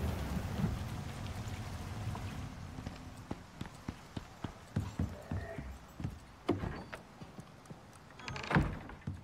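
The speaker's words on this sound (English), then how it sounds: "Raining." Rain falls in a steady hiss at first, then thins into scattered drops tapping and pattering nearby, some louder than others.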